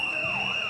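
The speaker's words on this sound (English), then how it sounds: "greeted by sirens of solidarity" A fire service vehicle's siren wails loud and close, a continuous high tone with a sweeping pitch, sounded in support of firefighters demonstrating outdoors over pay.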